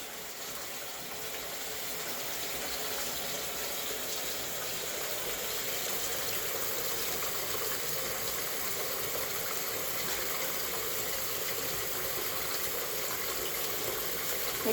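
Tap water runs steadily into a bathtub while grocery bags and items are washed, a constant hissing splash at moderate distance, unbroken for the whole stretch with no talk.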